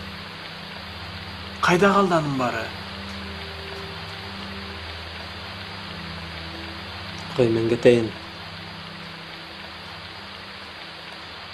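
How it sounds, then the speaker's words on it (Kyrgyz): Rain falls steadily outside, a continuous even hiss that holds throughout as a backdrop while two people speak briefly in separate short exchanges. "Эшикте жамгыр жаап жатат."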